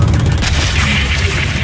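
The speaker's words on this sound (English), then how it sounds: "Hit that SAM site with a missile" A missile strike on a SAM site in Call of Duty Modern Warfare 3 gives a loud, sustained low boom and rumble that fills the short moment without a break.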